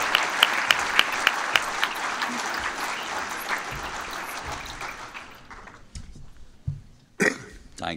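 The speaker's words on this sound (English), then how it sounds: "Ladies and gentlemen, a round of applause, if you would, please, for Danny Nelson" Applause from an audience at a 2019 NHRA North Central Division awards ceremony honoring a top dragster national champion, loud and dense at first, then thinning and fading out, followed by a few scattered bumps and noises.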